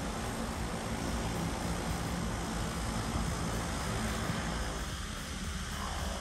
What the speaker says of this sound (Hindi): So here comes our C plane. Wow, क्या लैंडिंग थी यार